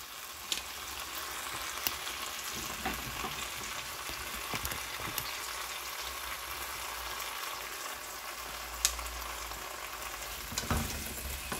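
Sundae (Korean blood sausage) and vegetables stir-fry in a pan with soy sauce, giving a steady loud sizzle throughout with occasional scrapes and clinks of stirring.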